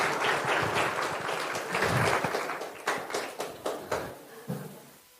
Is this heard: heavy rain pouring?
no